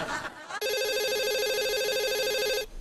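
A telephone rings with a single sustained warbling electronic tone lasting about two seconds, loud and close, after a brief bit of background noise.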